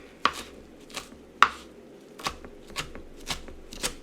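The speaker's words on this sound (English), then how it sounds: "And the more I chop, the more liquid is going to be released" Cabbage being rough chopped with a knife on a cutting board, a series of crisp, close chops arriving at irregular intervals with brief shredding rustles between strikes.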